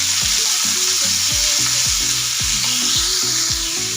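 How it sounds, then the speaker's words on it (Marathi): Finely chopped onion sautés in oil in a pan for a potato bharta, giving a loud, constant sizzle with regular scraping stirs of the spatula every half second or so, with a faint tonal layer underneath. "कांदा आपल्याला बारीक कट करायचा आणि तेलामध्ये कलर चेंज होईपर्यंत आपल्याला परतून घ्यायचा आहे।"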